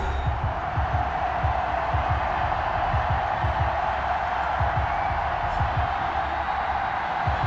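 A Madden 21 stadium crowd roars steadily as the Pittsburgh Steelers and New York Giants prepare to meet, a broad continuous cheer with rhythmic low thumps underneath.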